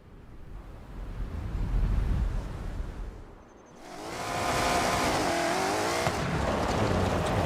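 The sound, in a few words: BMW car engine racing in video game Forza Horizon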